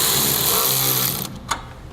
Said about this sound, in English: now we'll snug down our bolts a little bit using a 14mm socket